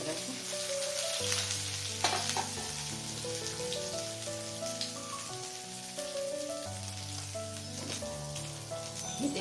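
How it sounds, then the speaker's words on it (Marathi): Asafoetida hits hot oil in a kadai with a steady sizzle, largely buried under loud melodic background music for the whole stretch. "आपली कढई तापलेली आहे त्याच्यात आपल्याला आता हिंग टाकायचं आहे"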